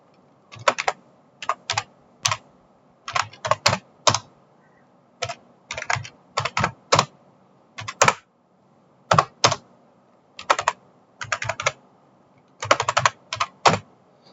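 Fast clicking keystrokes on a computer keyboard while text is entered in PowerPoint, coming in irregular bursts of quick taps separated by short pauses, close and clear with no talking.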